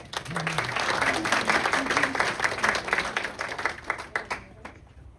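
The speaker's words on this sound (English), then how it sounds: "Let's give a big round of applause." An audience at a Somervell County master gardener talk on old roses bursts into sustained clapping, a dense close wash of many hands that fades toward the end, with a voice speaking briefly over it at the start.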